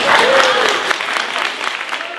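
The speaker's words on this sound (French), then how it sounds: "Là, on faudra applaudir." Audience clapping at a 20th-anniversary gala for a community organization, a steady wash of applause that starts full and gradually thins, with a faint voice briefly audible near the start.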